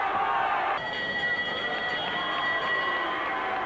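Boxing arena crowd at a Lennox Lewis fight, a dense roar of voices that swells into a sustained mass of booing and jeering, continuous and loud throughout.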